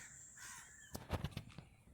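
Outdoors on a walk through Malaysia, crows give a short cluster of harsh caws that overlap at close-to-moderate distance against steady ambient hiss.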